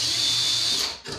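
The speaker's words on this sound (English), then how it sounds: "Drilling it down." A power drill whines loud and steady at close range, boring down into a workpiece, then briefly cuts out before spinning up again.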